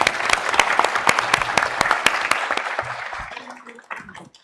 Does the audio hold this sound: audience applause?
yes